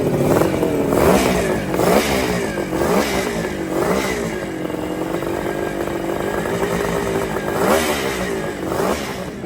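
A 1972 Kawasaki H2 two-stroke four-cylinder motorcycle engine running loud and close, with a raspy, buzzing drone and repeated revving swells over a steady clattering idle.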